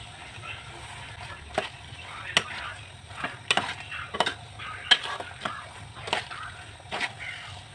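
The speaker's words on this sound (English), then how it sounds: "After we put the spaghetti, we make sure we mix it well with the spices." A spoon stirs spaghetti through spices in a cooking pot, making irregular scraping clanks and soft sloshes over a low sizzle, with some talking in the background.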